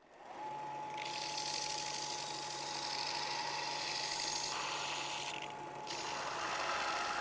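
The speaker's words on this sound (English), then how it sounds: "So I'm going to start with some 60 grit on the belt sander and just start moving these edges down" Belt sander running 60 grit against metal edges in a custom chopper shop, a steady loud grinding whine with a constant hum that holds for about seven seconds, dipping briefly near the end as the piece shifts.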